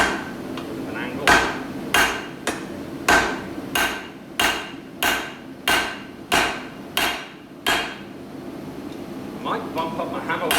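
A hammer strikes hot steel during forging about a dozen times in a steady rhythm, each blow a sharp ringing clang, close and fairly loud.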